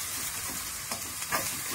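Onion briefly stirred in a hot pan with rendered sausage fat, an even close sizzle broken by a couple of short scraping strokes of the spoon.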